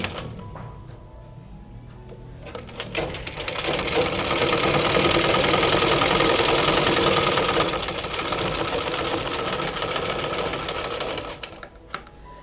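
Sewing machine stitching a half-collar dress seam, a steady mechanical whirring run that builds up after a few start-stop clicks, holds for several seconds, then stops, close and fairly loud with no talk.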